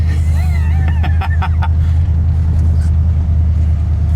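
An old junkyard truck engine runs steadily while driving, with a loud, constant low rumble throughout and a few brief knocks and rattles early on.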